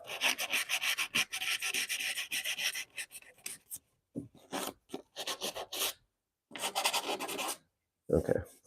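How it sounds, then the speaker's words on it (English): A rag rubbing finish into a wooden Danish bookshelf, close and scratchy, in fast rhythmic strokes that break into shorter bursts separated by brief silences. "I'll just brush it back with a rag"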